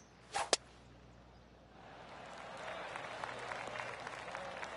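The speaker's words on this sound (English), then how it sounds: "Oh, golf clap." A brief, sparse patter of polite golf applause from a distant crowd in a golf video game, preceded by two sharp snaps, over a low hiss.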